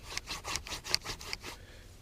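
A wooden hand drill spindle rubs against a fireboard in friction fire making, with about eight evenly spaced rasping strokes that come close and fairly soft, then stop; no voices.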